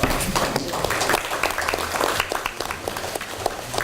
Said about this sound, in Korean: 추미애 당대표님과 지도부께 큰 박수 좀 부탁드리겠습니다